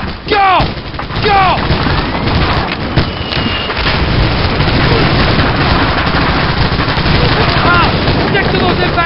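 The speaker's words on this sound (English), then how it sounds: "Covering fire!" Machine gun covering fire in the World War II shooter Medal of Honor: Allied Assault: loud, dense bursts of automatic gunfire with booming explosions and shouting soldiers throughout, forming a continuous battle din.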